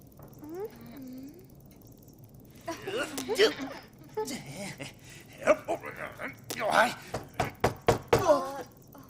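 Knocking on a door in the animated Wakfu OVA Nox: a series of sharp raps toward the end, mixed in with voices talking.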